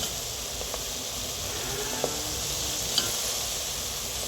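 Herbal hair oil cooking in a pan, a steady soft sizzle and hiss with a few faint scrapes and clinks of stirring, no voices.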